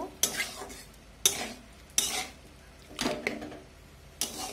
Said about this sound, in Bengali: লাউ দেওয়ার পরে একটু এইভাবে নেড়ে নেব